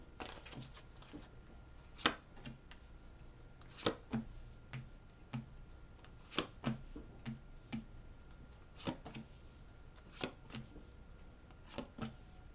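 A tarot deck is shuffled by hand, giving quiet, crisp card slaps and riffles that recur every second or two against a soft, still background.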